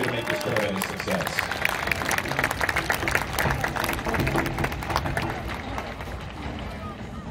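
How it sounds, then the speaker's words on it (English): An audience at a California State Band Championship at Valhala High School gives a dense, sustained round of applause that fills the hall for several seconds, with voices mixed in underneath. "Please join me in giving them a round of applause"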